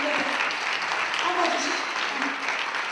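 Audience applause at a gathering, a dense steady clapping crowd sustained across the whole brief moment, fairly close and even in loudness.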